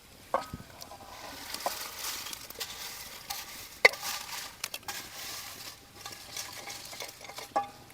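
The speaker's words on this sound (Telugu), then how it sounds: "ఇప్పుడు మనం ఏంపుకున్న ఈ అప్పడాలు ఇలా పోసుకుందాం" Fried papads being stirred into a hot tempering in a pan, giving soft scraping and crackling stir sounds with light sizzle, scattered clinks and a few sharper knocks over about eight seconds, fairly quiet throughout.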